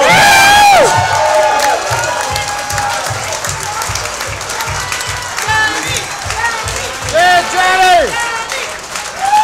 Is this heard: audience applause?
yes